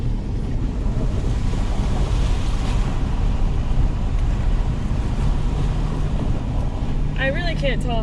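A stock Nissan Xterra fords a creek, its tires churning up a loud, steady wash of splashing water under engine and wind rumble, with a voice briefly speaking near the end.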